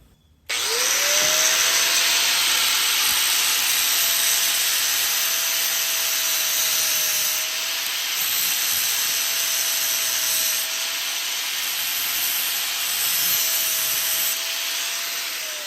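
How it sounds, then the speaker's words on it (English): An angle grinder cuts off the ends of bolts held in place, producing a loud, continuous high whine after a short spin-up that holds steady for about fifteen seconds. "I'm just going to hold them in this and then cut them with the grinder"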